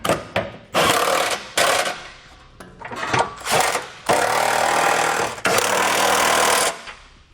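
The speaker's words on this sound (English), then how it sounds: "With everything hand tight, we can now snug down all of our fasteners." Power tool snugging down the bolts of a Curt trailer hitch receiver on a 2019 vehicle: several loud, close bursts of impact-style hammering, separated by short pauses, the last two long and steady.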